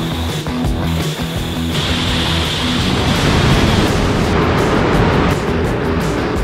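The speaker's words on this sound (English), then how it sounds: "Now I'm gonna go hose this thing off at the car wash and see how it does with some direct water pressure." A car wash pressure hose sprays water onto a DECKED truck bed storage box, a steady loud hiss of spray close by, with a low motor hum and a few brief thumps at the start.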